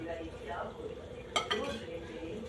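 Flour dough for shawarma being mixed in a bowl, soft scraping and stirring with a couple of sharp utensil clinks against the bowl partway through, close and moderately loud.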